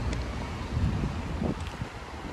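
A warm breeze buffets the microphone outdoors in Dresden, a steady close rumble of wind noise with gusty swells and faint background sounds.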